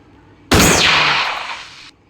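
A single sharp gunshot rings out in the horror video game Granny, a sudden loud crack followed by a short ringing decay lasting about a second, with no talk over it.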